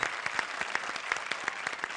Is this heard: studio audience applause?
yes